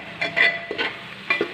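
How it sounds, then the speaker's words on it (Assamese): Spoon stirring spices and meat frying in a pan, a few soft scraping and clinking strokes over a faint sizzle, close and quiet. "তাৰপিছত লৰাই দিম"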